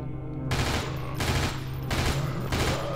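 Sustained automatic gunfire in the game Nightmare House 2, loud rapid bursts in three long stretches separated by short gaps, with no voice over it.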